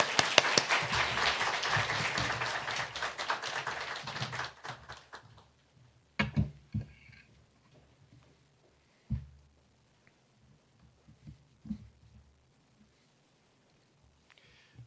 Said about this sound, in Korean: 우리 권영상 목사님 오실 때 우리 환영하는 박수 하겠습니다.